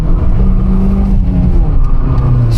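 A Toyota Yaris engine revs hard while its wheels spin on a wet road, giving a loud, sustained droning roar up close.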